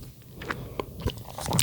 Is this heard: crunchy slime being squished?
yes